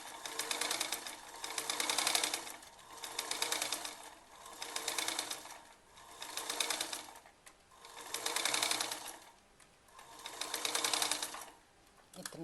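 A sewing machine stitches around a 7-inch circle of fabric for a baby elastic frock, running in close, steady bursts that start and stop several times with short pauses, and no one speaks.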